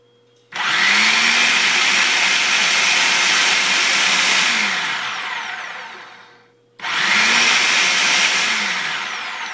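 A blender pulses tomatoes for home-canned tomato sauce under a locked lid: two loud, close whirring bursts, the first running about six seconds and winding down before a short pause, then a second burst starting up. No one speaks.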